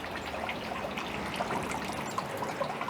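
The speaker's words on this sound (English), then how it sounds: "You can hear the fountain in the background." Water from a fountain splashes and trickles steadily in the background, a continuous, even wash of sound with no voices and no breaks.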